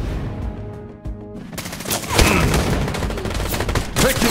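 Rapid gunfire erupts in Wild Assault, a tactical shooter, after a quieter moment: dense, loud bursts of automatic shots and overlapping fire that carry on to the end.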